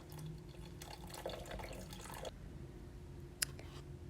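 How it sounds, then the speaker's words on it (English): Water pours into a crock pot for an herbal soup brew as a faint, steady trickle and splash. It stops partway through, and a brief clink follows. "Add your water to your crock pot, leaving about an inch to the top."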